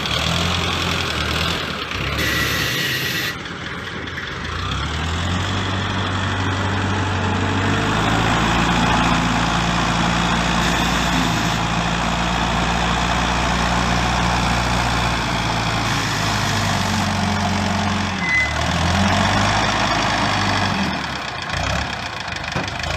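A heavy diesel engine of an old Komatsu wheel loader runs steadily at close range, a deep rumbling idle with knocking undertones that rises and falls slightly over time.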